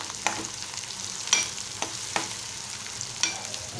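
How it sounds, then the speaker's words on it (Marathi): Chopped onion and green chili frying in oil in a pan, a low continuous sizzle with a few sharp scrapes of stirring spaced out over several seconds, close and fairly quiet, without talk. "आता हे छान तेलात भाजू देणार आहोत दोन मिनटं"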